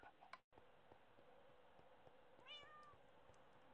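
A cat meows in Minecraft over steady game background noise: one rising, drawn-out meow near the middle with faint ticks around it.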